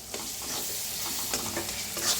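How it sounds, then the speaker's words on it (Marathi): Spoonful of dahi cream (malai) roasting in a pan, a steady close sizzle with soft stirring scrapes and a few louder clicks of the spoon, no talking. "तर आता छान असं भाजून घेऊया।"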